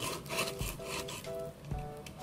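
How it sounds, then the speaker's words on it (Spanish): A small piece of wet-and-dry sandpaper scrapes along the napkin-covered paper edges of a handmade gift box, a close, continuous rasping with a few quick back-and-forth strokes. "vamos a retirar los bordes que tenemos con un pedacito de lija de agua"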